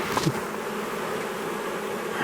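A dense, continuous buzz from an agitated swarm of bees disturbed inside a shed during a rescue, loud and steady throughout with no talk.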